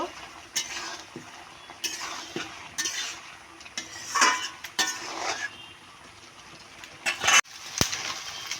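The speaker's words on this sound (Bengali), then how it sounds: "এখন আবার নেড়ে নেব" Pumpkin curry with fish roe being stirred in a pan, with repeated scraping and clattering strokes of a spoon against the pan and a soft sizzle beneath, close and fairly loud, with no talking.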